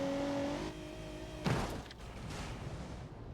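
Car engine in BeamNG.drive climbing in pitch as it accelerates, then a sharp impact-like burst and rushing noise, loud and close with no talk over it.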